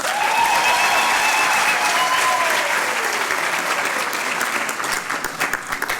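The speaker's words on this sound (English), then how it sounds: "these unspoiled voices of Africa need another round of applause" Sustained applause from a graduation ceremony audience, loud and continuous throughout, a dense wash of clapping that thins slightly toward the end.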